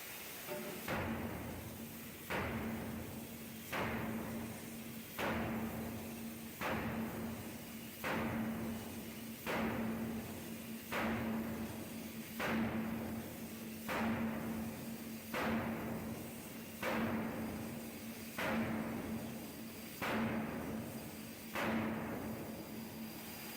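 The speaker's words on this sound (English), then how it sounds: "With each controlled blow, the strike bar compresses and shapes the metal." Giant steam hammer forging a metal billet, delivering evenly spaced heavy blows roughly every one and a half seconds, each a thud followed by a hissing steam release, continuing steadily in a large industrial space.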